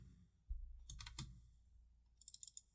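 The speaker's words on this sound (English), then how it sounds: "I'm simply going to type in all capitals, new content weekly." Keystrokes on a computer keyboard in two short bursts, a cluster of crisp taps early and a quicker run of clicks near the end, fairly quiet with a low hum underneath.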